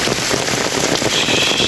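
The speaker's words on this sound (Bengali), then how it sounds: "সেই মুসুলধারে বৃষ্টি" Heavy rain pours down steadily with a dense, unbroken hiss of drops striking surfaces, loud and close, with no voices over it.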